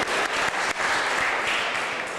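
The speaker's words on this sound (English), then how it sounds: "Let's give them a warm round of applause for looking after us." Audience members at a community gathering in Welland, Ontario give a brief, steady round of clapping, moderately loud and continuous, with nothing else breaking through.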